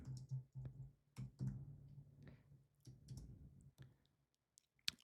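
Keyboard typing of a short word, with a handful of separate key clicks spread over a few seconds, quiet and close, ending in a few sharp isolated taps.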